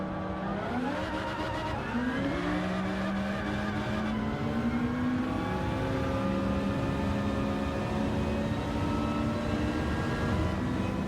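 A 700-horsepower Honda Civic drag races in Gran Turismo 7, its engine whining steadily higher through the gears with brief shift dips, loud and continuous for the whole stretch.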